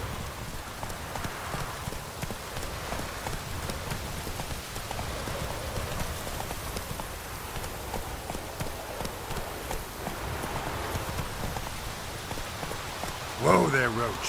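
Hooves of Roach, the horse in The Witcher 3: Wild Hunt, clip-clop at a steady walking rhythm over a rainy ambient bed, with a louder burst of sound near the end.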